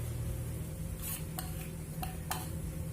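Crushed green chickpeas go into a pan of frying onions, and a utensil taps a few times in light strokes over a steady, soft sizzle.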